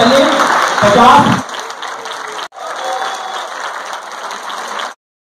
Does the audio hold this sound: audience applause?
yes